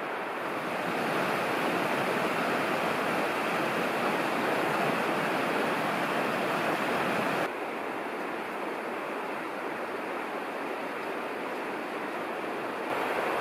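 A river rushes beside a mountain trail in the Khibiny range on the Kola Peninsula, a steady broadband roar heard alone, dipping briefly partway through before returning at similar strength, with some wind mixed in.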